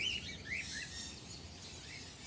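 Birds call at a bird park lake in Hambantota, Sri Lanka: a few faint, high chirps over a low, steady outdoor rumble.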